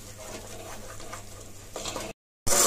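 A spoon stirs biryani masala in a pan with soft, steady scraping over a low sizzle. The sound cuts out briefly, then returns louder.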